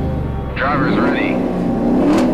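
Two cars revving their engines side by side at the start of a one-mile drag race, a loud steady roar with a rising whine, under a voice talking.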